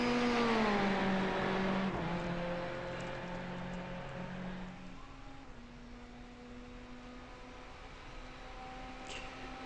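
A race car in an iRacing IMSA sprint race, its engine note sweeping and shifting through the gears as the car drives past and pulls away. The loud whine fades to a steadier, fainter drone.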